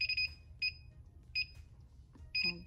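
Four short, high electronic beeps from a clamshell heat press, evenly spaced about every half second or more, fairly faint over a low background hum.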